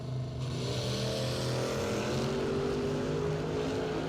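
A Camaro drag race car launches hard down the strip at a Labor Day drag racing event, its engine roaring and revving upward through a gear change, loud and sustained with no voices.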